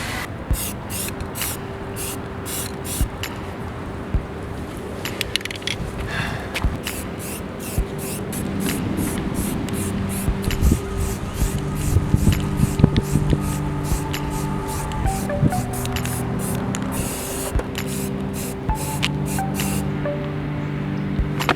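A spray can lays primer onto car bodywork in repeated short hissing bursts, some brief and some sustained, close and fairly loud over a low background hum.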